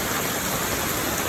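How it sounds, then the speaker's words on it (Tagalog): Heavy rain pours down on a wet morning, a steady, dense hiss of falling water filling the scene without pause. "Kaso malakas talaga ang ulan."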